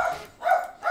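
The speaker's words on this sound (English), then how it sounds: "I apologize for my dog because he became a complete butthole today." A grumpy seven-year-old dog gives two short, close barks in quick succession, with nothing else heard.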